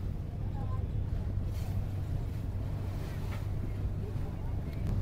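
An open ferry heading to the Elephanta caves off Mumbai rumbles along with a low, steady engine drone mixed with wind buffeting the microphone, fairly quiet overall, with faint talk in the background.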